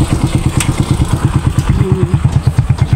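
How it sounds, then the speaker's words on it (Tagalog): A motorcycle engine chugs in fast, even pulses on a rural road beside a river, a close, fairly loud putter that stays steady throughout. "may motor. Yan yung motor ah."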